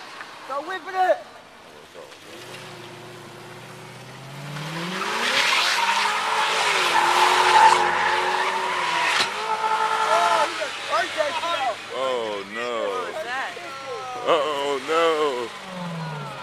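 A Lexus skids with long, wavering tire squeals that rise and fall over several seconds, close and loud, with engine noise beneath and people shouting over it.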